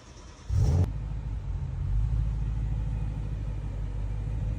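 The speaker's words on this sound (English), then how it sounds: "Now we're gonna let the car die on its own after starting it up." A BMW S65 V8 engine starts with a loud burst, then settles into a steady low idle rumble that runs on without any voice over it.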